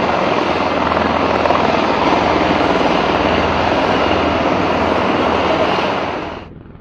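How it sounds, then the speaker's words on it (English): US military helicopters escorting Marine One over Nairobi produce a loud, continuous, close rotor and engine roar that drowns everything else, then drops away abruptly just before the end, with no voices. "under the deafening surveillance of heavy aerial escort by US military helicopters"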